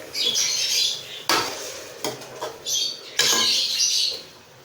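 Metal spoon scraping and clinking in a pot while chicken is mixed with garlic-ginger paste and tomatoes, a few distinct stirring strokes with bright scraping bursts, close and clear with no talk.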